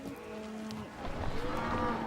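Cattle on an Argentine ranch, mothers newly separated from their calves, bellow in long, drawn-out moos that overlap and follow one another at close range, with no talking over them.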